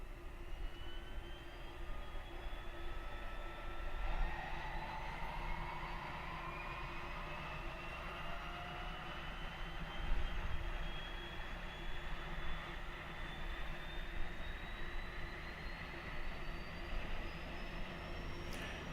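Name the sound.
aircraft right engine starting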